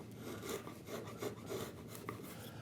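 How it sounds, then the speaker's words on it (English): Steel chisel paring waste off a wooden chamfer, bevel flat, working with the grain: a steady run of soft scraping, rasping strokes, about four close passes, near and quiet with no talk. "Now I'm using the flat face of the chisel to give me some control"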